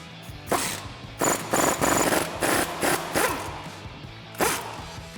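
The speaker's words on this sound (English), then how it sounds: "Then we're going to grab our 19mm socket and loosen up" Ratchet with a 19mm socket loosening a coil spring compressor during a Teraflex 2.5-inch coil spring lift install on a Jeep Gladiator JT: close, irregular bursts of scraping clicks with short pauses between them, no talking.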